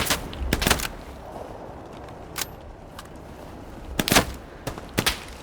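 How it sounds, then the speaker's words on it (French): Gunfire in the World War II shooter Hell Let Loose: several sharp, loud bursts of shots cut through a low rumbling battlefield bed, clustered at the start and again near the end, with no talk. "Là, ça tire principalement au sud-est."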